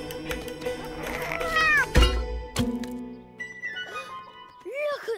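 A cartoon cat meows in a Peter Rabbit garden scene, two clear, close, wavering cries rising and falling in pitch, set among other character sounds and talk.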